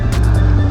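Kawasaki Ninja H2 supercharged motorcycle accelerating hard in third gear with the rear tire breaking traction, a brief loud burst of deep engine roar with rising pulses.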